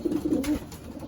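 Young racing pigeons in a Texas loft coo in a few soft, low pulses, close by and brief, with no talking.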